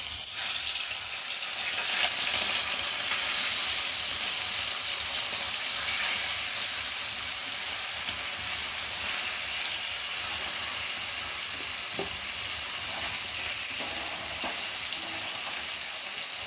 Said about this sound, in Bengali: আর এখন আমি একে একে মাছগুলোকে দিয়ে ভেজে নিই।